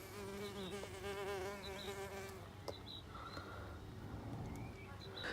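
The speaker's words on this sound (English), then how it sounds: "This little thing is called a ruby-tailed wasp for obvious reasons." A ruby-tailed wasp buzzes close by near a mason bee nest in a garden. Its steady, whining hum is clear for the first few seconds, then fades into quiet outdoor ambience.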